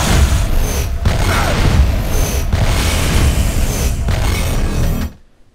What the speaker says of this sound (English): Naya can also tag enemies with the warp rifle and set off a chain of black holes